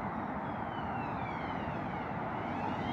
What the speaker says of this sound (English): There goes a police car.